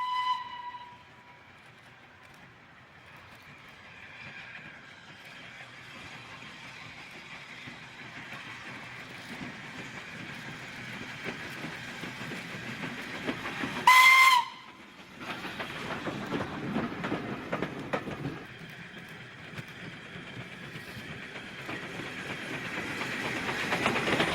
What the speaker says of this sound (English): After passing Kinchley Lane, the train is seen at Rabbit Bridge.